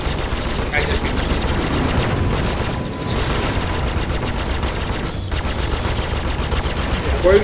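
Rapid, loud bursts of ship gunfire from a Sabre in Star Citizen hammer on almost without pause. A brief lull comes near the middle. A voice speaks under the fire.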